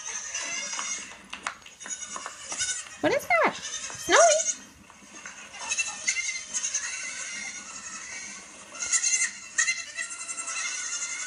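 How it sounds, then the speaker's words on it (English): Goats bleat in a couple of loud, wavering calls near the start, with a voice speaking over a busy outdoor background for the rest of the stretch. "listen for the goats"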